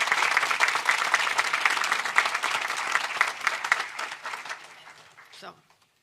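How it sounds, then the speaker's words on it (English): Sustained applause from a crowd honoring the legislators at a New York bill signing, loud and steady for about five seconds before tapering off and stopping abruptly. "Let's give them another round of applause."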